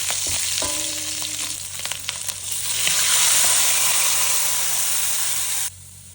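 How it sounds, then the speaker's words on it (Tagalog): Beefsteak fries in hot oil until golden brown, a steady close sizzle and hiss that swells as the pieces are stirred, with a few clinks of utensils before the frying cuts off. "Fry lang natin ito hanggang maging golden brown"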